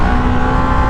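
A heavily loaded motorcycle engine revs hard and loud in second gear while the rider tries to lift a wheelie, a dense continuous roar up close.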